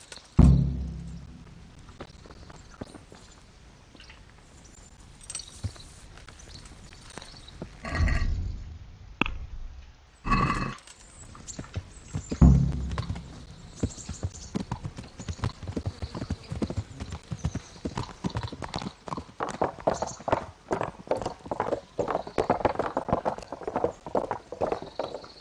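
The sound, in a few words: horses clip-clopping while riding, from the video game Kingdom Come Deliverance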